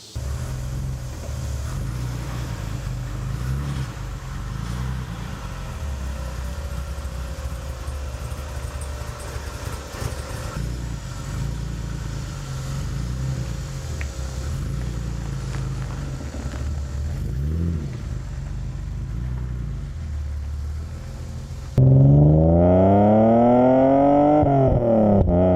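A BMW 635csi drives to a car wash with a steady, rumbling engine drone heard from inside. Near the end the engine revs up and down in rising and falling sweeps through the gears.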